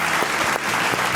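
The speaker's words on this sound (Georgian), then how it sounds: "ტაში დააჯილდოთ ეს ადამიანი" A studio audience at a comedy game show applauds with dense, steady clapping from many hands, loud and close, lasting the whole moment without a break.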